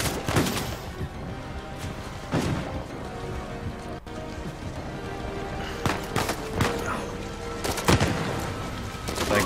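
Rapid bursts of Uncharted 4 gunfire crackle over a dense, continuous background of game noise, with several louder volleys standing out.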